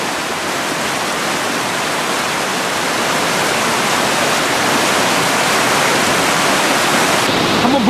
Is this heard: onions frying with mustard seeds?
no